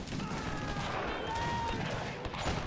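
Rifle volley fire from infantry formed in square during a Mahdist Rebellion battle in a strategy video game: a steady, dense crackle of many muskets firing together, with a faint tone drifting over the clatter.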